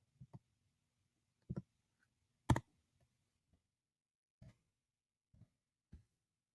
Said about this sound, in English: So I'm going to go ahead and type in the section code.